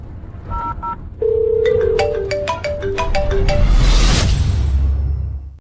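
A phone ringtone sounds after the butler is called: a bright melody of short tonal notes rings out steadily, then a rising broadband whoosh swells toward the end.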